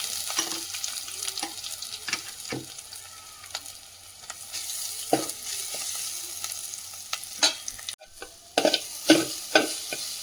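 A ground spice paste hits a hot pan of fried onions for a Kerala-style tender jackfruit thoran and is stirred, giving a close, continuous sizzle with frequent scraping spatula strokes and clinks, no voices.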